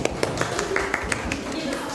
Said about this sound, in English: give applause everyone